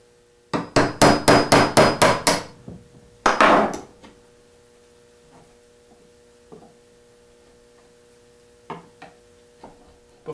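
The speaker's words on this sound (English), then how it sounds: "It's just a little bit of cleanup work with the chisel, and you've got the mortise squared up." A mallet drives a chisel to clean up a mortise in wood for an Arts and Crafts panel bed: about eight quick, loud, evenly spaced strikes, then a heavier double blow, followed by faint scattered taps over a low hum.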